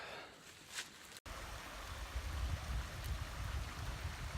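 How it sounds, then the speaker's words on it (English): Creek water flowing along a hiking trail in the Ozark Highlands, a steady low rushing and gurgling that rises after a brief cut and continues close by, with no talk. "Yep, I found the creek again."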